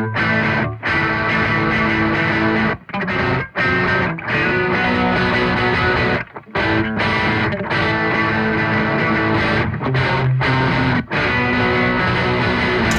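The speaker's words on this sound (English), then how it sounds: "go into the distortion of the next one" Electric guitar driven through serial distortion stages on a Laney Ironheart amp with Aurora DSP, playing dense, heavily saturated chords and riffs with brief choppy stops, loud and continuous with no voices.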